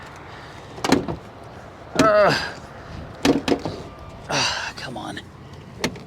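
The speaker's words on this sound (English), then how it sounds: "Let's pop the hood." The hood of a red car at a dealer auction is popped open, with a few sharp latch clunks spread across the moment while someone speaks briefly nearby.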